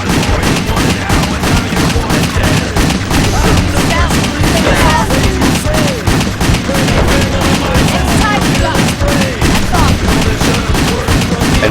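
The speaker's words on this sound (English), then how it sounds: "And shooting two guys at once" Rapid gunfire in the video game WET rattles continuously, dense overlapping shots and booms filling the whole stretch, loud and relentless, with a voice talking over it.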